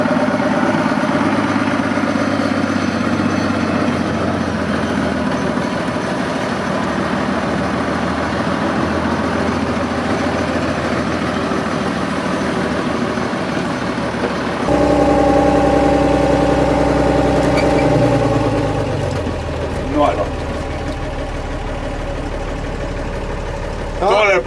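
Engine of a 1935 Renault TN4F bus running steadily, a low rumbling drone that rises in pitch partway through and then settles, with a few brief knocks and background talk near the end.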